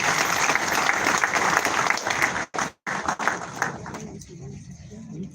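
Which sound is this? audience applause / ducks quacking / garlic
audience applause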